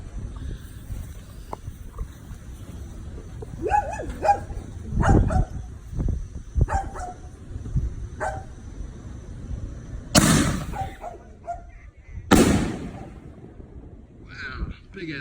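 Supreme Fireworks Alien Invasion 6-inch canister shells launch and burst with two loud, sharp booming breaks a couple of seconds apart, among quieter thumps and crackle, while people talk nearby.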